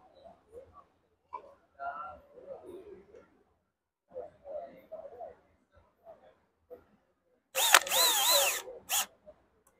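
A cordless power drill driving screws, one short loud whirring burst followed by a brief second burst, coming after stretches of someone talking quietly.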